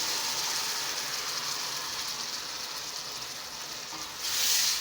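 Blended tomato puree hits a pan of frying onions with a steady, bright sizzle and hiss that flares louder near the end, heard close up with no voices.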